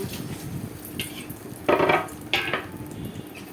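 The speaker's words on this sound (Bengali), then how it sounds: "এবার আমি অল্প অল্প করে দিয়ে ভেজে নেব" Small portions of lentil batter for daler bora dropped into hot oil, each bringing a short burst of bubbling sizzle, with soft utensil clinks over a low background murmur and no speech.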